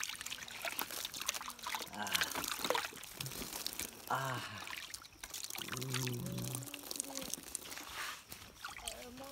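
Water pours and splashes for washing the face, a rushing trickle with sloshing bursts running throughout, close and fairly faint beneath people talking.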